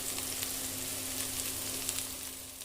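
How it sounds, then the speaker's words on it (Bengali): Carrot, cauliflower and beans frying in hot oil with salt and turmeric, a close, even crackling sizzle that holds steady for a few seconds without any voices. "গাজর, ফুলকপি আর সিম একত্র করে তেলে দিয়ে লবণ হলুদ দিয়ে ভেজে নিচ্ছি ভালোভাবে"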